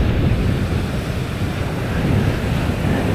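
Ocean waves break steadily at Praia Brava beach in Florianópolis, a continuous loud roar of surf with wind buffeting the microphone, no voices.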